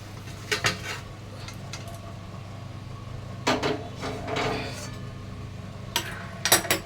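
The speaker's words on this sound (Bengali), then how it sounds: "এবার আমি নাড়িয়ে দেবো।" Parshe fish curry in mustard paste stirred in a pan, scattered metal clanks and scrapes of a spoon against the pan coming in short bursts over a low steady background hum.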